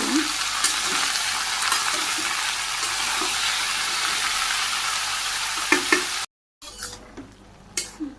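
Vegetables frying with green chilies in a Bangladeshi village kitchen, a steady broadband sizzle with occasional stirring clatters, close and fairly loud, cut by a brief silence near the end before the sizzling resumes more faintly.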